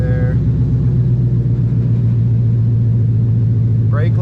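A Ford F100 truck engine idles steadily with a deep, even rumble throughout, running close by, with a brief burst of voice near the end.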